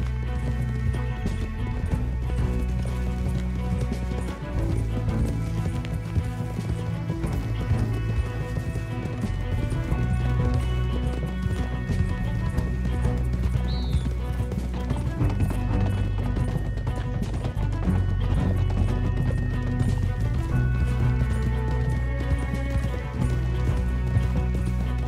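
Horses gallop in the Red Dead Redemption II video game, a continuous rhythmic clatter of hooves under a dense game soundtrack and effects, steady and loud throughout.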